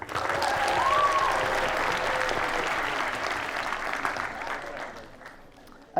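Audience applause for a fourth-place prize winner at a children's book award ceremony, a sustained round of clapping that fades gradually toward the end, with a faint voice briefly audible above it.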